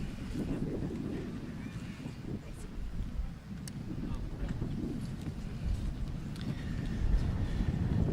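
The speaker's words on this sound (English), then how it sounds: "It's windy." Wind buffets an outdoor microphone at a high school graduation ceremony in low, uneven gusts, with faint scattered ticks and distant voices under the rumble.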